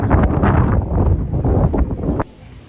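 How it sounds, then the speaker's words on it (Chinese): Strong wind along National Road 315 buffets loudly in rough, gusty roars for about two seconds, then suddenly drops to a much quieter rustle. "现在开始刮大风，"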